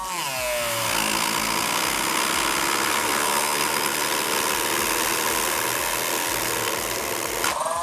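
A Worcraft CEMG-S20Li cordless engraver spins up with a rising whine, then runs continuously and loudly up close under load, giving a dense, buzzing high-pitched drone with a slight grinding texture.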